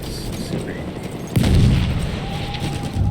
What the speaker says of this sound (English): Throwing a grenade, watch it!